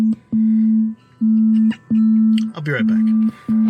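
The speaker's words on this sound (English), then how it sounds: "I really wish that Tesla would change the incoming phone call notification." Tesla car's incoming phone call alert: a loud, pure electronic tone pulsing on and off in long repeated beeps, with someone speaking briefly between beeps.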